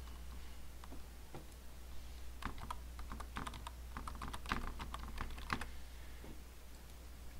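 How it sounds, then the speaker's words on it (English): A URL is typed on a computer keyboard, quiet clicking keystrokes in irregular clusters over a steady low hum, with no talking. "So I'm going to type in my own URL."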